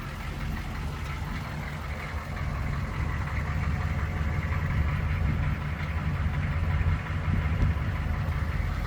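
A 1984 GMC Sierra Classic 1500 pickup idles, heard from behind the truck as a steady low rumbling engine drone with slight unevenness, moderately loud and continuous with no talking.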